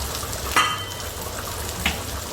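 Food fries steadily in a pan during a basic cooking lesson, a continuous loud sizzle with a couple of brief sharper spatters.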